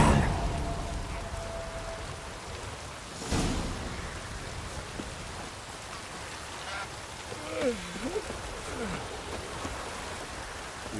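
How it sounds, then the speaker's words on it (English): Steady rain hisses throughout in The Witcher 3: Wild Hunt, with a soft thump partway through and a few faint chirping calls in the background. "Looks like rain."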